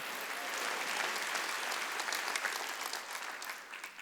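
A church congregation at a Wednesday worship service applauding steadily, a dense, even wash of clapping that holds for several seconds and tapers slightly at the end.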